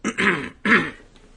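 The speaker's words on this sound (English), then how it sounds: "I really have to clear my throat on this one." Two quick throat-clearing grunts, one right after the other, close and fairly soft, with a short pause between them.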